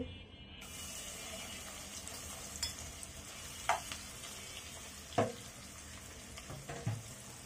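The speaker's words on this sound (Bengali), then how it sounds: "এরই মাঝে তেলটা গরম হয়ে আসছে, মাছগুলোকে আমি তেলের ভিতরে দিয়ে দিচ্ছি।" Fish, with shrimp among them, sizzle steadily in hot oil in a pan while cooking a coconut soup, a soft continuous frying hiss broken by a few sharper crackles and clinks of a utensil, with no talking.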